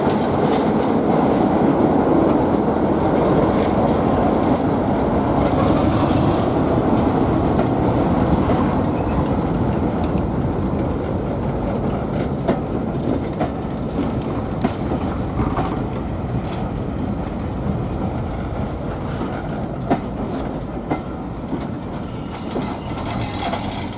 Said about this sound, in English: Now this train's now moving.